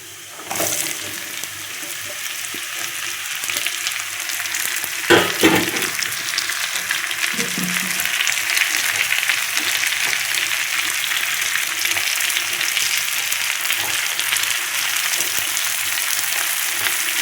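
Steady sizzling and scraping as mango stir-fry is stirred around a hot pan, continuous and fairly loud, with a few clinks of the utensil.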